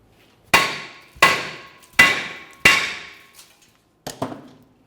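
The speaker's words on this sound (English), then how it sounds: "Now I'll continue with a hammer." Five sharp hammer blows knock a brake rotor loose on the rear axle of a 2001-2005 Ford Explorer Sport Trac, four loud evenly spaced strikes followed by a softer double knock, each ringing briefly.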